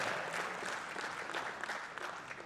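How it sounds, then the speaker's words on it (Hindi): Steady applause from a crowd, dense clapping sustained throughout without pause. "जोरदार तालियों से सर का स्वागत किया जाए।"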